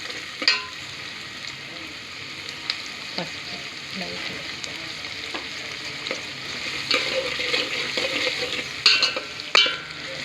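Carrots fry in oil in a pan for a breakfast pasta, a steady close sizzle with occasional spatula scrapes and clinks against the pan, growing slightly busier toward the end.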